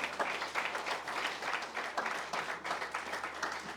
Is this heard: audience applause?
yes